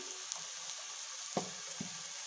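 Milk powder being stirred in a frying pan while making lauki-coconut barfi, a faint steady sizzle with a few soft scraping knocks from the spoon, close and quiet.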